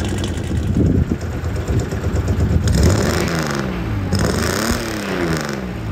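A Ford Ranger truck engine with a suspected head gasket leak and white exhaust smoke runs loudly up close, its droning note rising and falling as the throttle is blipped, with no talk.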